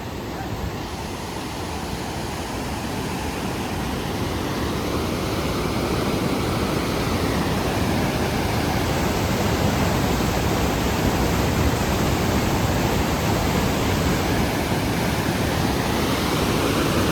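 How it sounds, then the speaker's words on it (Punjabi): A swift mountain river surges under heavy pressure near an old bridge on the Hemkund Sahib trek between Gobind Dham and Gobind Ghat. It produces a dense, constant roar of rushing water, loud and close, with no pauses. "ਪਾਣੀ ਬਹੁਤ ਪ੍ਰੈਸ਼ਰ ਨਾਲ ਆ ਰਿਹਾ ਬਹੁਤ ਤੇਜ਼"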